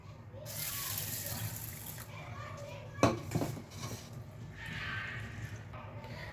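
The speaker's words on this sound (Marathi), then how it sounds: "आता याला आपण वॉश करून घेणार आहे" Water runs from a tap while mung and toor lentils are rinsed in a bowl, with a sharp clatter of a dish midway.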